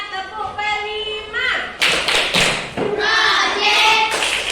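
Children in a classroom perform the rhythmic 'tepuk P5' clap chant, sharp hand claps and thuds mixed with their chanting voices, fairly loud and close.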